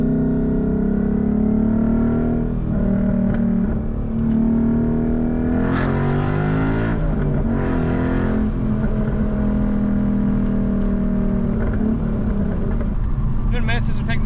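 A 2012 Ford Mustang Boss 302 V8 on back roads, loud and close from inside, climbing through the gears with rising engine pitch, shifts and steady rumble over about fourteen seconds, with bursts of voice on top.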